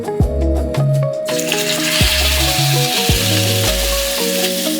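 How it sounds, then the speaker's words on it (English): Steak frying in a hot oiled pan gives a bright, steady sizzle that swells after the first second, partly under loud background music with a thumping beat. "Let's add some oil to our heated pan."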